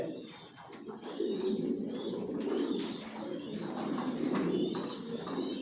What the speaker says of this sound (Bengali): পুরো লফটা আপনাদেরকে দেখাচ্ছি সব একই কবুতর পালি